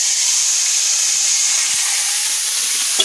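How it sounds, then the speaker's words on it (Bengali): Whole cumin seeds and bay leaves temper in hot oil, giving a loud, steady hiss and sizzle throughout. A small clink comes near the end. "গোটা জিরে ফোড়ন দিব, তেজপাতা দিয়ে দিব"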